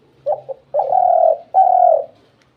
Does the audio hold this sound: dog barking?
no